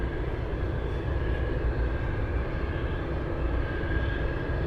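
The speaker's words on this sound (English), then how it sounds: "Up close, we might even get some jet wash, jet blast." Boeing 747 Dreamlifter jet taxiing close by on an Anchorage airport taxiway, giving a loud, steady engine roar with a broad rumble and a faint whine running unbroken throughout.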